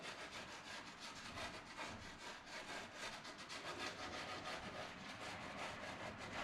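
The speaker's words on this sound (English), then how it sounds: "So I'm just scrumbling this to create a blend up here." Soft pastel is scumbled across a board to blend clouds, giving a faint, close, continuous scratchy rubbing made of quick repeated strokes, with no talking.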